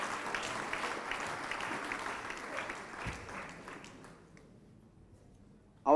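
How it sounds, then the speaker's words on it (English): An audience applauds steadily at an agricultural youth event in Nigeria, heard at a distance and fairly faint, then fading out and leaving near silence before a sudden sharp noise at the very end. "Please, let's clap for him once again."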